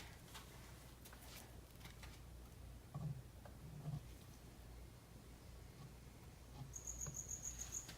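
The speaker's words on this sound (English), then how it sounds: "My little cricket's back, folks. I'm so sorry. I can't find him. And he sounds so loud." A cricket chirps indoors, a faint high trilling that repeats in short pulses over a soft room hum, with a couple of dull knocks in between.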